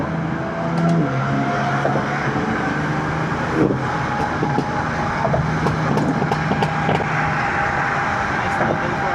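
A BMW F80 M3 drives on a city street in Jersey City, its engine a steady, continuous drone with a rising and falling tone throughout, heard from inside the car. Someone talks over it at times.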